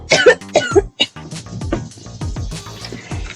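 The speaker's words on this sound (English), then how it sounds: "Don't mind my coughing," A person with a sore throat coughs in several sharp, close bursts during a software tutorial, followed by quieter throat noises and faint background rustle.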